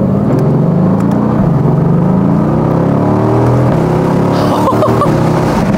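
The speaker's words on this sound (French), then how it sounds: "autant mettre directement le mode Sport Plus, les valves qui s'ouvrent directement" A Mercedes-AMG GT S Roadster with its seven-speed DCT, run in Sport Plus mode with the exhaust valves open, pulls hard on a closed road, a loud continuous engine roar whose pitch climbs through the gears with brief shift dips.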